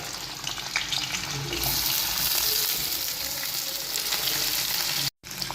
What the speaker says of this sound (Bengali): দেখো পনিরগুলো সুন্দর করে ভাজা হয়ে গেছে